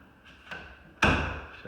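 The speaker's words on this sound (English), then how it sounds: "So let me shut the door." An indoor door is pushed shut with a single solid thump after a lighter knock, in a quiet room.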